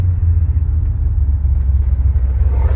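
A 1989 GMC Sierra C3500 dually pickup with a 502 cubic inch V8 drives along, heard from inside the cab as a steady, loud, deep engine rumble.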